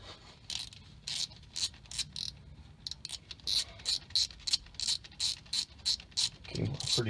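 A ratchet wrench backs out a 3/8 bolt on the rear ABS wheel speed sensor of a Ford F150, a close, steady run of rapid metallic clicking strokes in short bursts, with a brief low clunk near the end.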